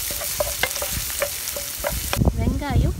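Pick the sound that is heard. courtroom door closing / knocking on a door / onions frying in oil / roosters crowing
onions frying in oil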